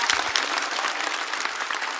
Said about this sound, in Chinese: 我们再次把掌声送给 Seven 休息一下。